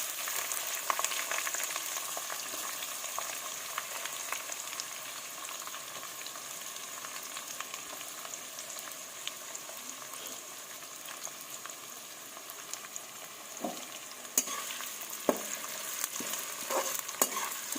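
Ginger-garlic, chopped onion and chillies fry in hot oil for chicken chowmein, giving a steady, close sizzle throughout, with a few sharp stirring clicks and scrapes toward the end.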